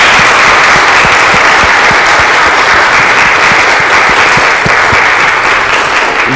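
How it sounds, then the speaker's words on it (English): A church congregation breaks into dense, sustained applause that holds steady for several seconds, loud and close with no voices over it. "let's give these folks a huge round of applause for their help"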